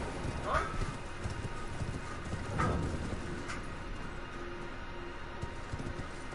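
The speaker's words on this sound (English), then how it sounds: "I can ride my horse in here." Horse hooves in the video game Elden Ring clip-clop at a slow, uneven pace under a steady background hum, fairly quiet and close.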